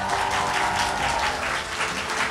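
Applause from a gala concert audience, a dense, steady clapping that fills the hall for a couple of seconds at even loudness, with no talk over it.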